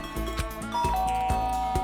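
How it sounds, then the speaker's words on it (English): A doorbell chimes a ding-dong inside the video game Danganronpa: Trigger Happy Havoc, a bright two-tone ring standing alone over a steady game background. "Ding dong."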